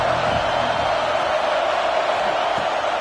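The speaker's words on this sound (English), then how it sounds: "This crowd bringing the energy and noise early." A stadium crowd at a football game roars in a steady, loud, unbroken wash of noise that holds evenly throughout.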